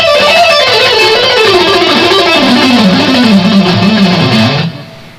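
Electric guitar runs a descending scale picked with steady downstrokes, a continuous stream of quick notes falling in pitch, loud and close, alone with no talking, ending abruptly after nearly five seconds.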